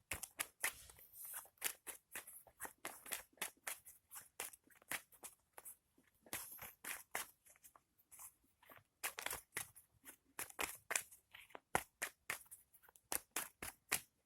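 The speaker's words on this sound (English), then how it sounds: "So give me a second so I can shuffle." Tarot cards shuffled by hand, a dense run of quick papery riffles and snaps repeating in bursts with brief pauses, close and fairly quiet, with no talking.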